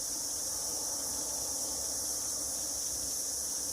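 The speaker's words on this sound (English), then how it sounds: "And the cicadas, but we know what they're doing." Cicadas buzz outdoors in a steady, high, continuous drone that fills the air at an even moderate level, with no voices.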